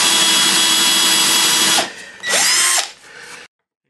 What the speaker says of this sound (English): when you're using a Forstner bit, as with most bits, you need to make sure that you clear the hole